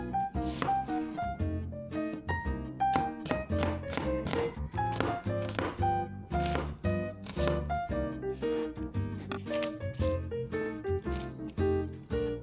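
A kitchen knife chops onion on a cutting board for a simple pancit bihon, in quick, close, rhythmic taps that run steadily with no voice over them.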